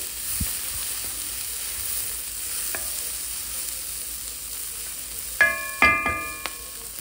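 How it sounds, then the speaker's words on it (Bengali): Corn kernels frying in a pan, nearing doneness for corn chaat, giving a steady close sizzle, then a few sharp metallic clinks and scrapes of stirring near the end, with no voice. "এটা প্রায় ভাজা শেষের দিকে"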